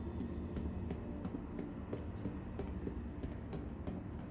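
Train capsule in the sci-fi game Star Citizen rumbling toward a station platform, a low steady rail hum with regular rhythmic clicks of wheels over track joints, no voices.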